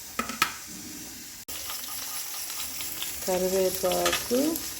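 Fennel seeds and curry leaves fry in hot oil for an egg masala, crackling and sizzling close by, with a few sharp pops early and rhythmic stirring scrapes near the end.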